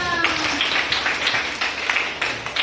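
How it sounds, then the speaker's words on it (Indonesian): Students in a classroom clap together, a brisk burst of hand clapping close by that carries on through, a teacher's voice briefly heard at the start. "tepuk tangan kita semua"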